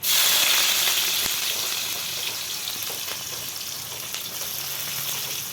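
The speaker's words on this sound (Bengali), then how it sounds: "পেঁয়াজ আমি লাল লাল করে ভেজে নেব।" Chopped onions fry in a pan for a banana-blossom fritter curry, giving a steady, close hiss of sizzling oil that starts loud and eases slightly, with a few faint clicks of utensils.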